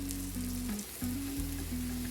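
Garlic sizzling in oil in a wok for garlic green beans, a soft, steady frying hiss under a continuous low hum, close but faint, with no voices.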